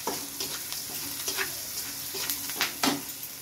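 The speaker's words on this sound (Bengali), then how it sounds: "কাঠ মশলার সঙ্গে এই যে এখন এটা ভেজে নিচ্ছি সুন্দর করে" Whole spices and ground spices frying in a pan give a continuous sizzle, broken by several sharp scraping stirs and a louder clatter near the end, with no voice.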